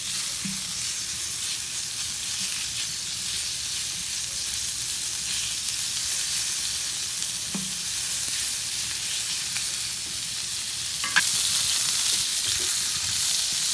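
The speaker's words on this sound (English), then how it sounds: "I want to go ahead and add our bacon now. So let's do that. Again, that beautiful sizzle." Bacon strips sizzle on the griddle of a Sunterra 48-inch Santa Maria outdoor grill, a steady, close, bright frying hiss throughout with a few soft clinks and a slight swell in intensity near the end.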